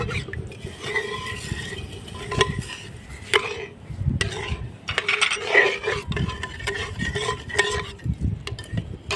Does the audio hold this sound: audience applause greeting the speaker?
no